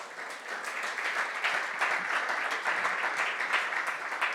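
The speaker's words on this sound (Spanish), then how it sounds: "Dele palmas al Señor si puede." Church congregation applauding during a Spanish-language worship service, a dense, steady wash of many hands clapping at moderate loudness throughout, with no voice over it.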